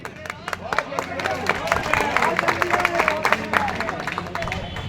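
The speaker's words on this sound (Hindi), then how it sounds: "इनके लिए बार बार चाहते हैं महाराज भैया तालियों का स्वागत कर दो" Crowd applause at a sadhus' protest gathering in Bhind, greeting an arriving official with dense, continuous clapping that swells and holds, with crowd babble mixed in throughout.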